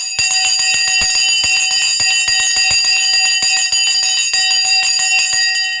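The stock market opening bell rings loudly and continuously, a rapid metallic clatter of electric bell strikes sustained for several seconds with bright, shimmering overtones and no voices.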